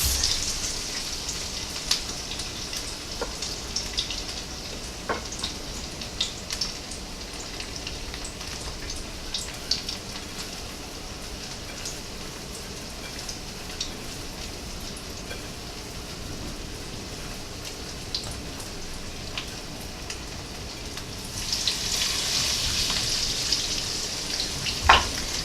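Battered cod frying in hot oil, a steady crackling sizzle like rain throughout, swelling louder near the end, close by and without talk.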